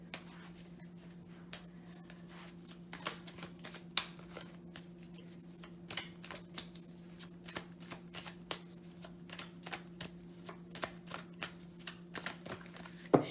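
Tarot cards being shuffled and drawn in a quiet room, soft irregular flicks and snaps, faint and close, scattered over a low steady hum.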